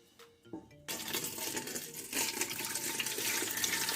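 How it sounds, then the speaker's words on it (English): Water from fermenting cassava for fufu is poured off and fresh water added, starting with a few faint clinks and trickles, then a steady, close rush of pouring and splashing liquid. "So let me just take out this water and then change it with new water."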